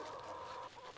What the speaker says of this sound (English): out of all these chickens, there's Luna